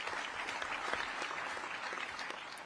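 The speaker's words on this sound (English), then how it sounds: "Listen to him clap. Clapping for court." Steady clapping fills the space in a courtroom, a continuous patter of hands at moderate volume with no break and no talk over it.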